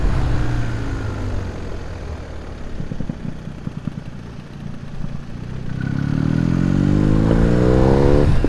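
BMW R1250R motorcycle riding along a road by the Moselle, a steady engine drone with clattering road noise, swelling louder and rising in pitch as it accelerates toward the end.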